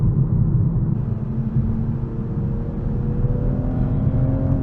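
A 2023 Toyota GR Supra A91 MT edition with manual transmission accelerates, its engine drone rising steadily in pitch, heard from inside the cabin as a loud, continuous hum.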